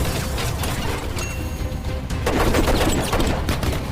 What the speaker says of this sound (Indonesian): keributan pun terjadi ketika Steve menembakkan pistolnya